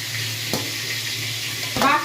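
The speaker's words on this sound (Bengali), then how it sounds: "বাকি সবকটা মাছকে আমি এইভাবেই ভেজে নেব" Prawns frying in oil in a pan for a Bengali prawn malai curry give a steady, close sizzle, with a couple of brief utensil knocks partway through.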